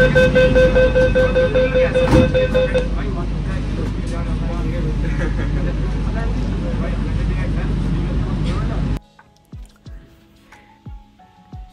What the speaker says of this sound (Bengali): এখন ট্রেনটি যাচ্ছে ঠিক গঙ্গা নদীর নিচ দিয়ে